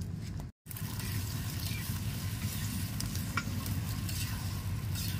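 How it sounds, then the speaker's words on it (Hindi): Eleven beaten eggs with salt fry in a pan for egg rice, a dense, steady sizzle with stirring scrapes throughout and one brief drop-out near the start. "सारे अंडे अच्छे से भुन जाए, आमलेट जैसी हो जाए"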